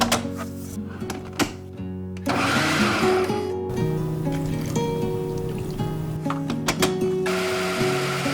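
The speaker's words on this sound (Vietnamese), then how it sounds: "cho cơm vào trong máy xay, cho thêm chút nước vào để xay cho dễ nha" A kitchen blender grinds cooked rice with a little water. Its motor whines loudly and steadily between short pulses, and the pitch shifts as the load changes, with brief stops and restarts.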